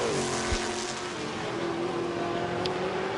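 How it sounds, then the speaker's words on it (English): Trans-Am TA2 race cars, 500-horsepower Chevys and Mustangs, racing at Road America, giving a loud, sustained engine drone whose pitch dips and then holds steady as the cars pass at full speed. "Very evenly matched, 500 brake horsepower Chevys, Mustangs, and Tift, Matos and Majeski."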